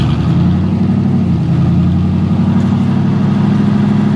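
Engine of a 1986 Oldsmobile Cutlass gasoline car with 44,000 miles, running steadily as it is put in gear, a loud, close low hum holding even throughout with no voices.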